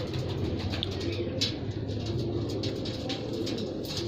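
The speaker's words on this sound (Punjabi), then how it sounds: "ਪਿਓਰ ਮੀਰਾ ਵਾਲੇ ਕਬੂਤਰ ਹੈ ਦੋਸਤੋ" Soft, low cooing of Mirab pigeons repeats steadily through a dense, constant background, with a few faint higher chirps scattered across it.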